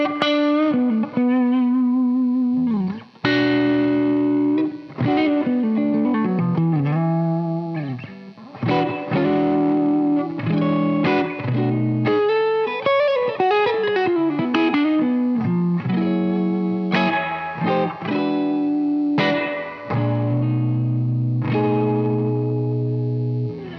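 Electric guitar played on the neck pickup through a compressor with reverb, a continuous melodic line of sustained, chorus-tinged notes and chords, loud and close, with no talking.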